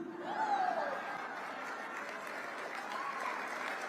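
Applause from a crowd, soft and distant, a steady patter of clapping running through the whole stretch with faint voices mixed in.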